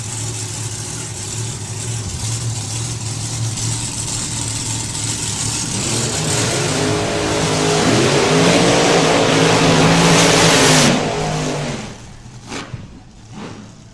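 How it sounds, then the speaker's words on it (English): Drag racing cars at a Summer Nationals drag strip roar loudly through burnouts, engines revving and building to a dense peak before cutting off, then idling and reversing more quietly. "So both done their burnouts, just reversing back up now."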